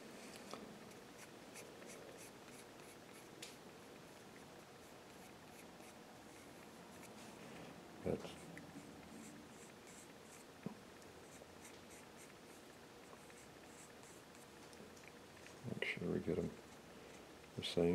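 Pencil drawing on a hand-carved wooden bust of a Native American figure, marking out the eye socket; soft, continuous scratchy strokes run close and faint throughout, with a few sharper taps and handling knocks near the end.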